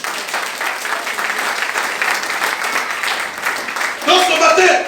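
Church congregation applauding in praise of Jesus during a pastor's worship service, steady sustained clapping that swells louder near the end, with voices mixed into the crowd noise.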